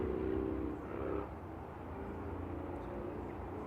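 Qatar Airways airliner departing Manchester Airport, a low, distant engine rumble that swells briefly at the start, then settles into a faint steady drone.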